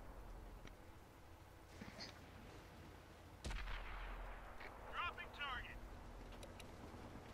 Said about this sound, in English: That Arty's fucking us up over here.